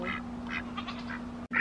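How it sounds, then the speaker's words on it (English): Ducks on a homestead give a series of short, nasal quacks, several bursts in quick succession at close range over a steady low hum. "I can't believe how friendly these ducks are now."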